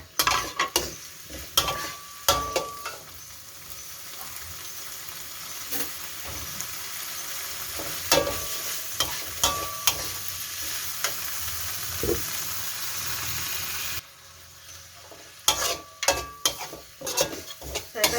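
Curry paste with shrimp, beans and kaffir lime leaves stir-fries over turned-up heat: a loud, continuous sizzle with repeated metal utensil scrapes and clanks against the pan, briefly quieting before the stirring resumes.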